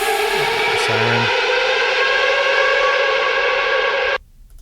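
A noise siren effect in an electronic music track, a loud sustained wailing tone with layered harmonics that holds steady for several seconds before cutting off sharply into near silence.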